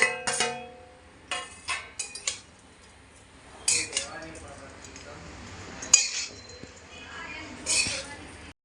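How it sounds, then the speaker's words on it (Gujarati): A spoon stirs soaked sago together with crushed peanuts in a bowl, giving scattered clinks and scrapes in short bursts with quiet gaps between them. The sounds are close and moderately loud. "હવે આપણે સાબુદાણા અને સિંગદાણાના ક્રશને સારી રીતે મિક્સ કરી દઈશું."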